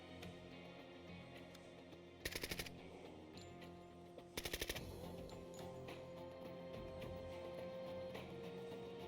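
Machine gun fire in the tactical shooter Door Kickers 2: two short, rapid bursts a couple of seconds apart, sharp and distinct over a steady background hum, with no voices.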